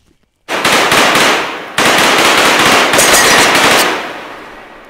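Rapid bursts of gunfire rattle in a virtual-reality shooting range game where bottles are the targets, two long loud close volleys of fast cracking shots separated by a brief pause.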